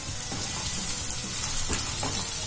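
Potatoes fry in oil in a pan, a loud, continuous sizzle with bubbling crackle and a few brief stirring knocks, with no voices.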